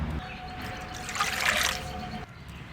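Water is poured steadily over plums being washed for pickle, and the pour swells to a splashing trickle before cutting off near the end, heard close and without talk.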